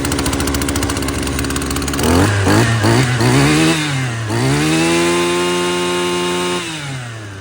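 A Husqvarna 233L weed trimmer engine runs loud and close, buzzing steadily before revving up, wavering in pitch, then settling back toward idle.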